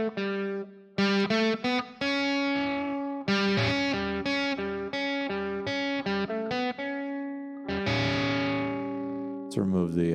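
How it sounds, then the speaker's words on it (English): A guitar played through a distortion effect rings out in a series of sustained, buzzy chords and notes with sharp attacks and short gaps between them, loud and close. "Let's remove the distortion from that."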